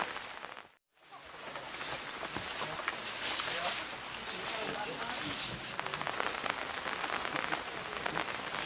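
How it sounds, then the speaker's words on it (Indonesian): Steady rain falls with a dense, even hiss of drops on surfaces, broken by a brief dropout near the start, while voices murmur faintly underneath. "Ieu kan hujan kitunya di dieu."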